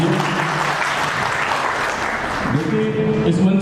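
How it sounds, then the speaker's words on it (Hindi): Loud, steady applause from an audience at a temple gathering in Kalkaji, Delhi, welcoming a guest onto the stage, dense clapping that continues throughout with a voice faintly audible beneath it. "जोरदार ताली बजाकर उनका स्वागत कीजिए"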